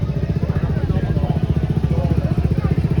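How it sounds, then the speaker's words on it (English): Motorcycles idle at a crowded biker meet in Southport, making a steady, loud, pulsing engine rumble close by with no talk over it. "Southport biker meet. Absolutely stacked loads of bikes here."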